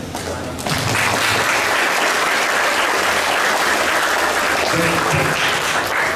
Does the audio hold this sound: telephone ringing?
no